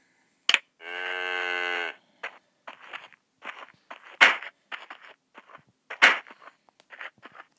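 A cow in the Survivalcraft game lets out one sustained low moo of about a second, followed by a string of short, sharp clicks and taps with quiet gaps between them.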